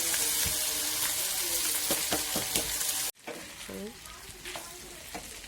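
Boiled pasta and potatoes hit a hot pan with a steady, close sizzle, broken by scraping stirs and light knocks of a utensil; the frying briefly cuts out midway before resuming more quietly with further stirring.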